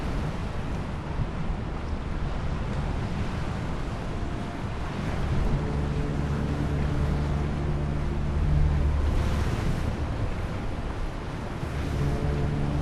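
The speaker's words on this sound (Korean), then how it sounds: "전함들은 거친 파도를 헤치고 빠르게 나아가고" Warships pushing fast through rough sea waves: a continuous roaring wash of surf and wind with a low engine drone underneath, steady and close, with no voices.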